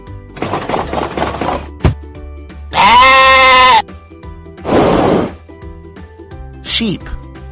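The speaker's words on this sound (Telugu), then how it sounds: "Sheep." A cartoon sheep bleats in a kids' animal-learning animation, a loud sustained wavering baa standing alone, preceded by a spoken word and followed by another bleat-like animal call.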